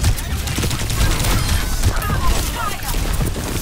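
Rapid bursts of gunfire and booms in an Overwatch 2 competitive match, Mercy firing her sidearm amid a dense, loud, continuous wash of battle noise.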